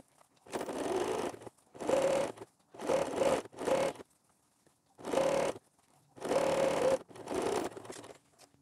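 A sewing machine stitches a bra in six or seven short runs with brief pauses between them, quiet and close, with no voices.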